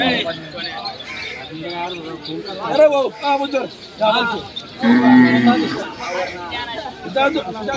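Mysore Khillar cattle at a bullock market in Chalisgaon, several loud close moos rising and falling over a busy crowd, with people talking throughout.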